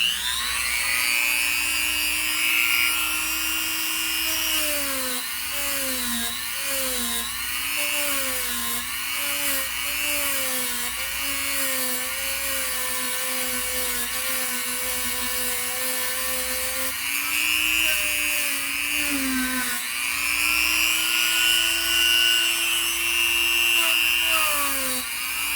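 A Dremel rotary tool fitted with a brush whines at high speed while working on a molding project, its pitch wavering and dipping as it presses into the piece, continuous and close for the whole stretch.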